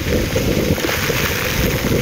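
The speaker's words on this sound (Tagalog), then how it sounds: "lumalakas na naman yung hangin" Strong wind roars and buffets steadily against the microphone, a dense, continuous rushing noise with no break.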